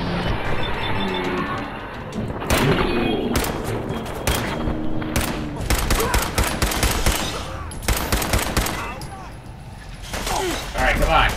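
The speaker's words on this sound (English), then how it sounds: "Shooting. Oh, Raiders." Raiders open fire in the video game Fallout 4, with rapid bursts and single gunshots cracking loudly along with thumps and clattering mechanisms, while a voice talks over the shooting.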